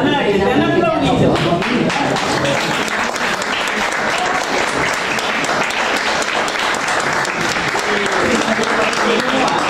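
An audience at a poetry reading bursts into loud, sustained applause, a dense wash of clapping that fills the room for about ten seconds without letting up.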